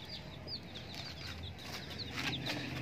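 A black hen clucks softly and repeatedly at a distance, small chick chirps scattered over a quiet farmyard background.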